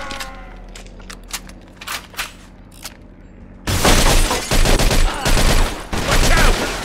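Heavy gunfire breaks out in a Mafia II shootout, opening with scattered isolated shots and then becoming a loud, dense, continuous barrage of rapid fire that runs to the end.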